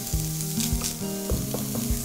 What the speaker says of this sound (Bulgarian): първо сложим 100 грама чоризо в нагорещен тиган